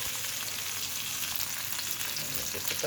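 Onion, garlic and ginger fry in hot oil after fish has been cooked in it, a steady, close hiss of sizzling that runs unbroken throughout with no one talking.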